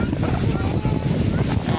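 Strong wind at Dahican beach buffets the microphone with a constant low roaring rumble, loud and unbroken for the whole moment.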